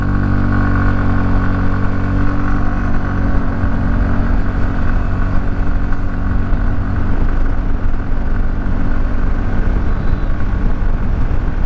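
A TVS Ntorq 125cc scooter runs in a power test, its engine giving a loud, steady buzzing drone that holds throughout at close range, with no speech.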